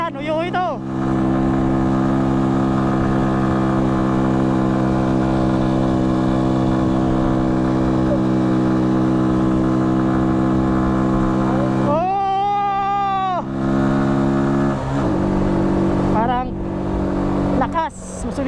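Two motorcycles, a Yamaha Sniper and a Rusi Flash 150, drone loudly with steady engine tones, punctuated by sharp high-pitched revving bursts that rise and fall, while people talk and shout nearby.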